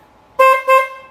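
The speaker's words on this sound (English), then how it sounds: "Oh, I don't need the horn." Two short, loud honks from the horn of a flipped golf cart being repaired, sounded close up in quick succession with no talk over them.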